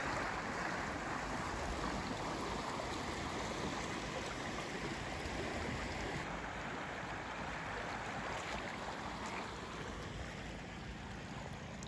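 Rapids on the Gregory River at a free campsite rush in a constant, dense, broadband roar that stays even and fairly close throughout, with no voices over it.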